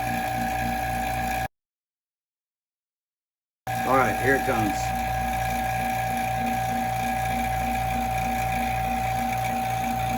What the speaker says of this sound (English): let's close the valve, start the pump.